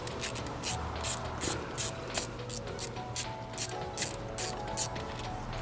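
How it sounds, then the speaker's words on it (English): Ratchet wrench with a 10 mm socket on an extension spinning out an exhaust bolt during a long-tube header and exhaust install on a 2015+ Ford Mustang GT, giving a steady fast clicking that runs throughout the clip, close and moderately loud. "We'll grab a 10 with an extension. That one's not too tight. And we'll just spin that nut out there"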